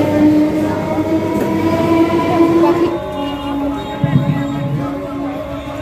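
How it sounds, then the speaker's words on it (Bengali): A train rumbles past nearby with a sustained low roar and tonal hum, changing character midway as another train approaches, loud and continuous. "একটা ট্রেন যাচ্ছে, একটা ট্রেন আসছে।"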